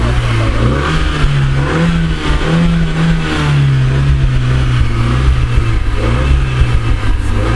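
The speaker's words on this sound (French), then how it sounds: "Fermer les portes et accélérer." A Renault Megane 3 RS engine revs up and holds a steady, loud roar close by, its pitch wavering slightly as it accelerates, with no voices.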